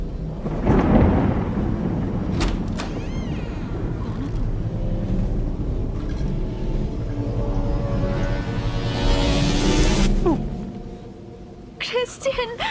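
Thunderstorm with loud, close thunder: a heavy rumble near the start, then a long rolling growl that swells and fades away, with a brief crack near the end.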